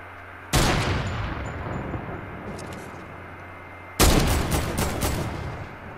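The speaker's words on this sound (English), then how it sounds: "No, I'm just shooting the care package." Two loud bursts of rapid gunfire in Fortnite, aimed at a care package, each burst a dense crackling volley fading into a sustained rumble, the second starting about three and a half seconds after the first.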